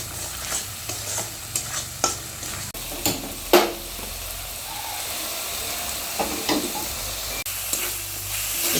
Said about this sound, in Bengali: এখন আমি মশলাটা কিছুক্ষণ কষে নেবো